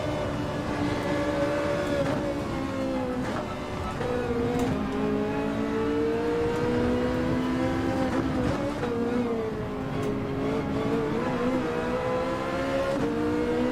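Race car engines of an Audi R8 and a Ferrari in Gran Turismo 7 at the Nürburgring drone loudly and continuously, pitch rising and dipping through gear shifts and corners, with no talk.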